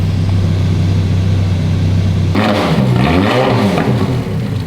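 An ex-rental Ferrari engine under rebuild idles steadily and loudly up close after a vacuum system fix, a constant low drone that shifts and wavers partway through.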